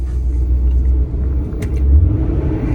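A Chevy Trailblazer's engine idles close by with a steady, low rumble, deep and continuous with slight swells, and no voices.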